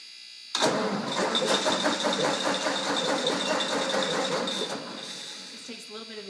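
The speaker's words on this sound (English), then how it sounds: "we can go ahead and try to start the tractor" A tractor engine cranks and catches at once, then runs with a loud, steady rattling idle before easing down slightly, with a voice faintly underneath.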